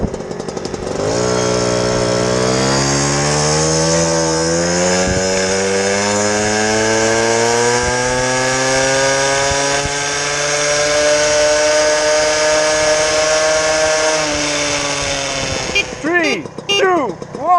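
Several Peugeot Fox mopeds warm up together, their small two-stroke engines buzzing loudly and climbing steadily in pitch over many seconds before cutting off abruptly near the end.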